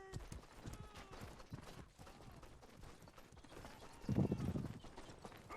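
Horse hooves clip-clop in a medieval video game battle, a steady run of clatter under busy fight noise, rising to a louder burst near the end.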